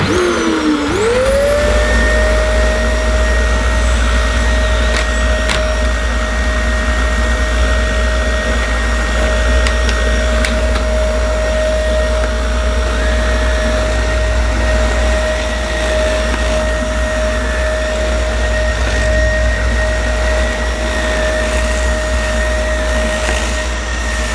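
A loud Dyson DC25 upright vacuum cleaner runs continuously with a whining motor that rises as it starts, then holds a steady high-pitched roar.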